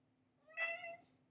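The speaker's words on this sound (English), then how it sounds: "Yes, my cat." A cat meows once, a short, clear, fairly close call that rises and then trails off against a quiet room hum, with no talk over it.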